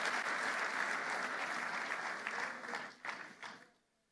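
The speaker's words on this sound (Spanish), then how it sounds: "Dale otro aplauso al Rey" A church congregation applauds, sustained clapping that holds steady and then thins out, with a few last claps before fading to quiet.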